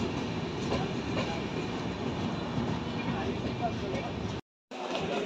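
A passenger train comes in at Jalandhar Cantonment station with a steady rolling rail rumble and a brief dropout near the end. Voices are faintly mixed in underneath.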